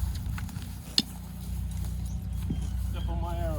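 A horse walks during groundwork for mounted archery, its soft hoof clip-clops spaced out and close under a steady low hum, with a sharp knock and a voice near the end.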